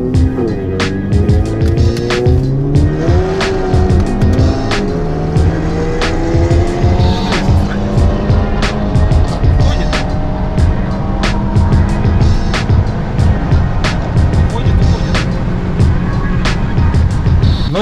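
BMW 330 and VW Golf R cars racing side by side, engines loud and close with rising revs and gear changes, the roar steady throughout with occasional tire noise.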